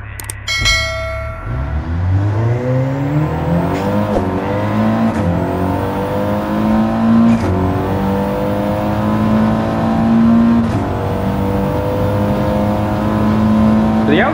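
Audi TT race car in Gran Turismo 7 in an open online lobby. The engine revs up through repeated gear changes, its pitch climbing and dropping in steady cycles, loud and close, with a brief sharp clatter at the start.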